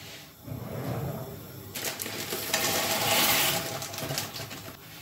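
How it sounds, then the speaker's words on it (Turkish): Water boiling in a pot for pasta gives off a steady, close bubbling and hissing that swells midway and stays dense to the end, with no talking. "Su kaynıyor."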